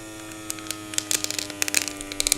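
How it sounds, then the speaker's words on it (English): A vacuum pump seals 3D-printer filament inside a Ziploc bag, giving a steady electric hum with scattered crackles and rustling of plastic as the air is drawn out. "really vacuum it down."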